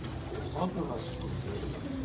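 Pigeons cooing on a Karachi rooftop, soft low coos that repeat faintly under rooftop ambience.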